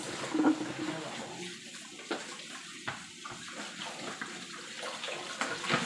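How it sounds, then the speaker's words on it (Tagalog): Water runs from a kitchen tap in Hong Kong while carrots and corn are washed for soup, a faint continuous splashing hiss with occasional clicks and knocks of handling. "At hugasan ko din itong ating carrot. At ang ating, ang ating carrot, ang ating mais."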